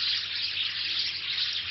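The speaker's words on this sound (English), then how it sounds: "birds" Synthetic birdsong texture made from noise, heard as a continuous bright twittering hiss that stays even and fairly loud throughout, with a faint low hum beneath and no speech.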